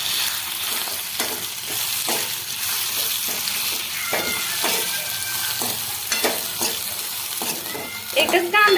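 Onion dropped into roasted masala fries in a pan for a spicy bombil curry, a continuous close sizzle broken by repeated stirring scrapes and clacks, with a brief voice underneath.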